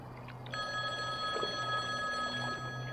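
A payphone rings with a bright, sustained electronic trill that starts abruptly and carries on at a fairly loud level, with a low hum beneath it and no voices.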